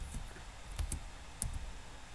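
A few quiet, sparse clicks come from a computer keyboard as entries are typed into an Excel spreadsheet, with no voices.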